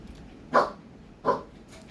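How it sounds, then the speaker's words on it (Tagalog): A family dog barks twice at home in two short, sharp, moderately close woofs about three-quarters of a second apart, with quiet room tone between and around them. "Nag-iingay ni aso namin."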